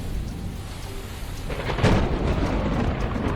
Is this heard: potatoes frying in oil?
no